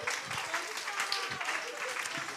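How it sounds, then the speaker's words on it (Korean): Congregation applauding during a Sunday evening church service, a steady wash of many hands clapping throughout, moderately close, with low murmurs of voices underneath. "박수 좀 쳐줘볼까요?"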